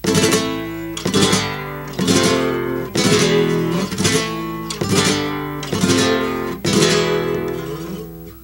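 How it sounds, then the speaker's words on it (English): Flamenco guitar strums seven rolling rasgueado chords in steady succession, each a quick triplet flourish followed by a brief upstroke, ringing close and loud without voices. "I like to add like 1 upstroke after the triplet itself"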